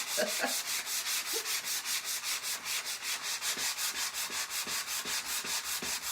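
A high grit sanding block rubs back and forth over wood by hand, producing a steady series of rhythmic scratchy strokes, close and fairly quiet, with no talk.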